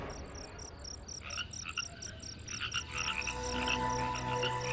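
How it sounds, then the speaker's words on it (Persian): Frogs croak in a rapid repeated chorus with insect-like chirring, faint and distant at first, then growing busier and louder in an outdoor night setting. "تو هم شنیدی؟ چی؟ این صدا رو. قورباغه است."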